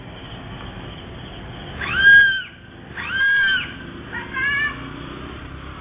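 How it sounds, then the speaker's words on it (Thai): A young woman factory worker screams in fright three times at night on a roadside, each a shrill, sweeping cry of rising and falling pitch, separated by short pauses, over a steady low background hum. "เธอนี่กรี๊ดด้วยความตกใจ"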